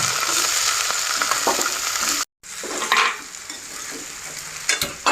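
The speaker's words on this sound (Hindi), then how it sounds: "मैं सब्जी तड़क रही हूँ" Cowpea (lobiya) vegetable curry fries in a pan with a loud, continuous sizzle, broken by a brief silent gap and bursts of stirring scrapes.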